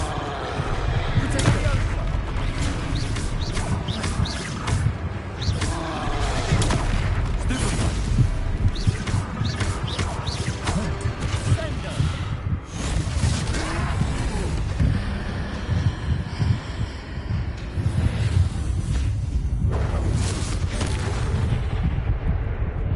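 Repeated spell blasts from the Confringo fire spell during a troll fight in Hogwarts Legacy, loud booming bursts layered over dense battle noise and game music for the whole stretch, with voices talking over it.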